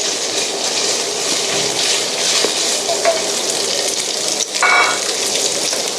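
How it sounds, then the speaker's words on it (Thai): Ground pork stir-frying in oil left over from frying tofu, a loud continuous sizzle with occasional scraping stirs, close and steady with no talking. "เราก็จะผัดให้หมูสุกก่อนนะครับ"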